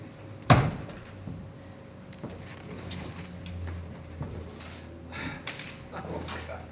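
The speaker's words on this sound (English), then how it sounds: "Bedroom door." A bedroom door shuts with one sharp bang near the start of a community theatre stage performance. Quiet room ambience and faint murmuring follow.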